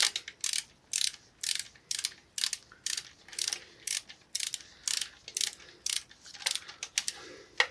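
A ratchet spanner tightening a bolt on the front forks of a Kawasaki ZZR600 motorcycle in a workshop gives a steady run of crisp, close ratcheting clicks in short bursts, about two per second, with no talk.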